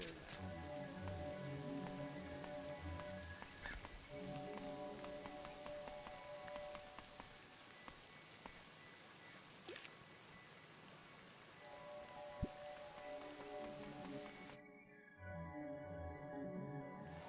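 Steady rain falling in the horror video game Crow Country, a continuous dense patter on surfaces over a low ambient drone, holding throughout before cutting away near the end.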